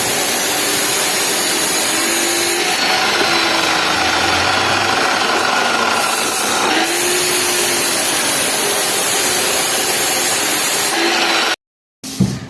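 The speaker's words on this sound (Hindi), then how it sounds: "सेंटिंग के कार्यों में ये कटर मशीन होती है जिसमें डिस्क लगी और इसी से सरिये और वायर और आसानी से कट जाते हैं।" A disc cutter machine cuts steel rebar and wire on a building construction site, giving a loud, steady whining grind that runs for about eleven seconds before it abruptly stops.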